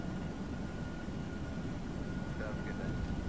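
Airbus A320 engines at takeoff power on the runway, a steady broadband roar filling the cabin with a faint whine running through it, constant in level throughout.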